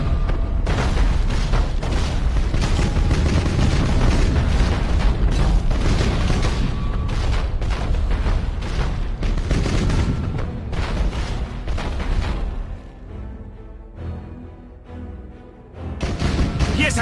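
Warship weapons firing in the Battlefleet Gothic Armada space battle game, a dense continuous barrage of booming shots and explosions, loud and sustained, easing briefly near the end before surging again.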